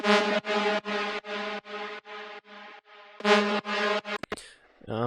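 A bright Serum software synth lead plays a series of short, rhythmic chopped notes, loud and close, ending in a brief burst of noise and a falling sweep.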